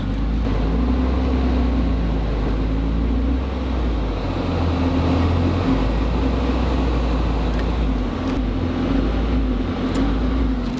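Inside a cheap rear-wheel-drive Japanese-market car that is overheating on a test drive, a constant heavy engine and road drone fills the cabin with no letup.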